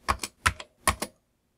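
Short bursts of clicky key presses on a Commodore 128 keyboard, three quick pairs of taps close up with brief gaps between them, in a quiet room.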